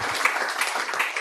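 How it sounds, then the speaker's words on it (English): Audience applause after a lecture on adult spinal deformity, a short burst of dense clapping filling the room at moderate loudness. "Applause for you."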